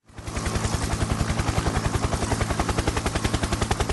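Helicopter rotor sound effect in a movie quote, a fast, loud, even chopping pulse that rises in within the first fraction of a second and then beats steadily throughout.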